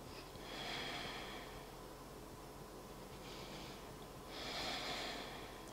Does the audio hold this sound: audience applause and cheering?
no